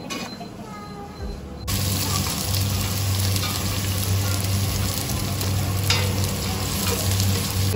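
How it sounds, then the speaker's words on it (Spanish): Whole spices including bay leaf, cloves, star anise, green cardamom and stone flower sizzling in ghee for chicken curry, a loud continuous fry that kicks in after a quiet moment, close, with occasional stirring clinks. "Esto se sofría con una mantequilla, bueno, un aceite de mantequilla que hace."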